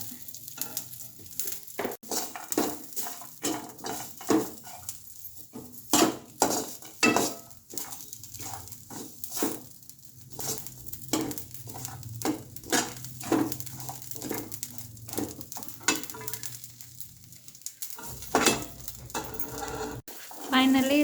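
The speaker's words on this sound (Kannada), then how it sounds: "ಎಲ್ಲ ಆದ ನಂತರ ಸಾಬುದಾಣಿಯನ್ನು ನೀವು ಹಾಕಿ" Sabudana is added to a pan and stirred: repeated clinks and scrapes of a spoon against metal, with a faint sizzle beneath and brief speech in between.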